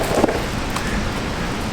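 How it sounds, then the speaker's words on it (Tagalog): Steady rain falls outdoors in Canada, a dense even hiss close to the microphone with some wind rumble and no other clear sounds. "Grabe, inaabot na ako ng ulan"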